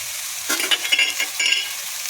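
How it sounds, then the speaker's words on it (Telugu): Ridge gourd curry frying in a pan, stirred with a few quick scraping strokes over a soft, steady sizzle, close and fairly quiet with no talk. "ఒకసారి కలపెడతామండి ఎలాగా కలుపుదాము"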